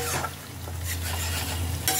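Pumpkin leaf paste mixed with black mustard paste is stirred in a pan, a brief close burst of soft scraping over a light sizzle and low hum.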